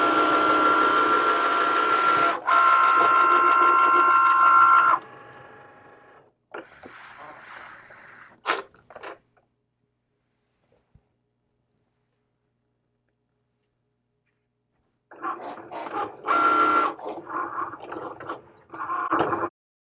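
Cricut Maker cutting machine working through a multi-layered design, whirring and clicking in bursts with buzzy carriage movements, pausing into near silence, then resuming for a few more seconds.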